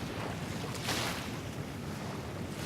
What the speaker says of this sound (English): I am now at the southwestern coast of France at the Atlantic Ocean.